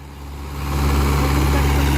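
Diesel engine of a Mahindra 575 XP Plus tractor running, a steady low throbbing drone that swells in loudness over the first second and then holds strong and even.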